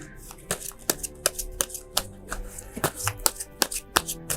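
Tarot cards are shuffled by hand in a quick, irregular series of crisp riffling snaps and flicks, close and fairly loud, with no voice over them.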